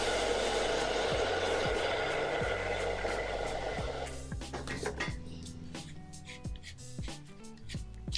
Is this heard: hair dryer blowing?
yes